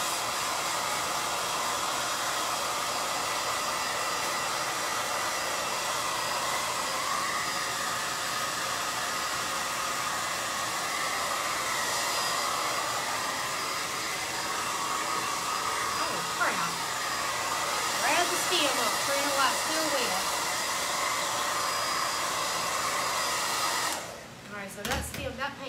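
A hair dryer blows steadily and loudly while drying paint on a pumpkin, its even whir holding for nearly the whole stretch before cutting off with a few handling knocks at the end.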